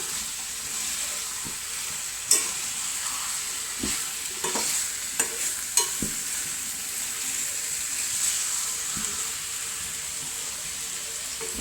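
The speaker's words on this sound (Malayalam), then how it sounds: "പിന്നെ ഇതിനകത്തേക്ക് മല്ലിയിലയും കറിവേപ്പിലയും കൂടി ഇട്ട് കൊടുക്കണേ ഇട്ട് കൊടുക്കുന്ന ഇളക്കി" A pot of curry with coriander and curry leaves being stirred: a steady soft sizzle runs throughout, broken by a few sharp spoon clacks and scrapes against the pan.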